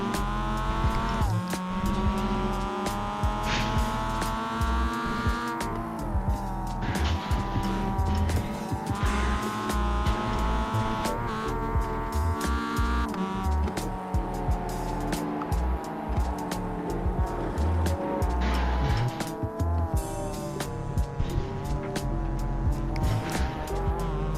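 A race car engine roars continuously in a racing video game, its pitch rising and falling as the throttle opens too early, with tires squealing and skidding over curbing as traction is lost, loud and steady throughout.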